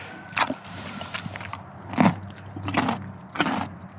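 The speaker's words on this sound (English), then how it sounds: "Would you like a crunchy carrot?" Several crisp crunching bites at irregular intervals, close and fairly loud, as a horse chews a carrot.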